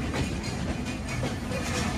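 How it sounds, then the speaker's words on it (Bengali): Sundarban Express intercity train pulling out of platform 3 at Noapara railway station, a dense, loud, continuous rumble of wheels and carriages close by. "এরই মাঝে আমরা ডিপারচার নিচ্ছি নোয়াপাড়া রেলওয়ে স্টেশনের 3 নম্বর প্ল্যাটফর্ম থেকে"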